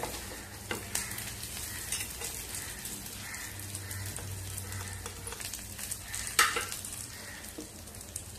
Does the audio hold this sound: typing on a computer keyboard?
no